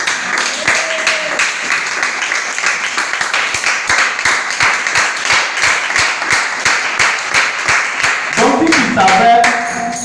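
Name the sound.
congregation applauding to acclaim the Lord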